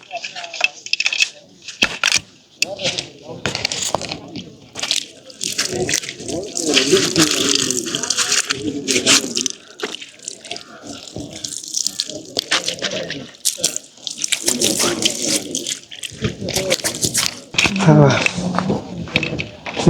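Running water splashes and pours as hands are washed at a spot along the Kataragama pilgrimage route outdoors, with steady water sounds and a few clinks continuing beneath frequent talk.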